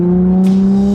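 Nissan 350Z engine holding a steady, loud drone for about a second, with a smooth even tone and a faint hiss partway through.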